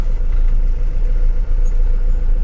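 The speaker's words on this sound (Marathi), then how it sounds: "हळूहळू ट्रॅफिक मधून क्रॉस करायचं काम चालू आहे" Slow road traffic at a congested bridge crossing, a steady low engine rumble from nearby vehicles, close and continuous with small dips.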